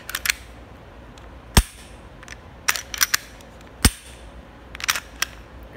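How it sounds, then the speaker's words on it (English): Glock 22 pistol function check, sharp metallic clicks and slide snaps spaced irregularly, close and crisp, with several quick clusters of clicks and no talking. "We're going to function check it now."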